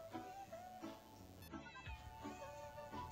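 Kittens meowing in quick, high repeated cries, several small voices overlapping close by at a soft level with no talk.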